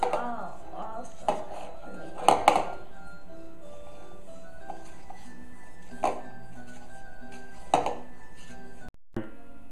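Mixing batter in a small bowl for a toy Easy Bake Oven, with intermittent clinks and taps of a utensil against the bowl over a quiet room hum.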